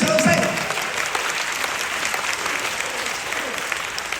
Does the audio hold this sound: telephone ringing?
no